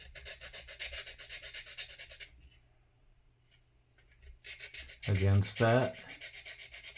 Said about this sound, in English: Let's see if the sanding stick will do anything.